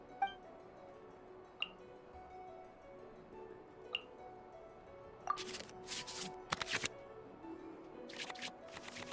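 Cards are shuffled back into the draw pile in a digital Yu-Gi-Oh card game, heard as a quiet cluster of soft, rapid riffling bursts after a few faint chimes, with no talking.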